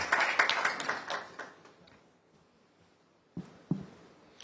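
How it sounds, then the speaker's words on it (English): A quiz-competition audience at a national schools championship launch gives a short burst of applause that fades out within about a second and a half, followed by near silence and a couple of isolated knocks. "Round of applause, please."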